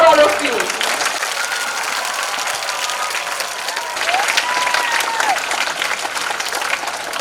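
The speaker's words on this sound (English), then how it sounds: "Clap for all of you." An audience applauds steadily and loudly at a school Independence Day celebration, with a voice heard briefly at the start.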